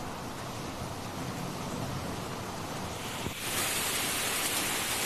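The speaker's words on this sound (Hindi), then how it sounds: "अंत में आखिरकार मॉनसून की पहली बारिश आज हो ही गई।" First monsoon rain falls in Delhi as a dense, steady hiss that fills the scene, growing slightly heavier near the end, with no voices.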